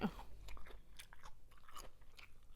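Close, crisp chewing of cucumber eaten with mayonnaise, a run of wet crunchy bites and mastication repeating steadily for a few seconds with no talking.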